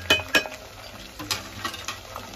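Kashmiri red chilli powder, coriander powder and homemade garam masala stirred and fried in a pot over medium heat for aloo gosht korma, a spoon scraping and clinking in quiet, irregular strokes with a soft sizzle beneath.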